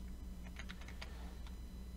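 Quick, light clicks of keys on a computer keyboard, a short burst of typing heard close and quiet over a low steady hum, with no talking.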